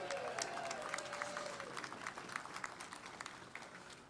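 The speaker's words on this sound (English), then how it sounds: "how about a round of applause for Craig Freeman" An outdoor crowd at a streetcar ribbon-cutting ceremony in Oklahoma City applauds, a dense wash of clapping that stays steady and then thins slightly toward the end, heard from a moderate distance.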